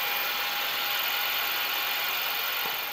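Milling machine with a 7/8 end mill cutting aluminum, a steady loud whirring hum with a high metallic hiss that holds evenly throughout, with no voices.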